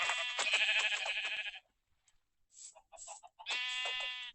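Sheep in a video game bleat in strained, wavering cries, one long call, a pause, then a few shorter bleats and another long one, clear and close.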